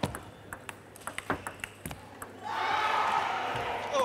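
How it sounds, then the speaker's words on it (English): Table tennis ball bouncing during a live match: a rapid series of light, sharp pings and taps for a rally, then a swell of crowd cheering takes over. "Tried to recover after that ball just landed on his court."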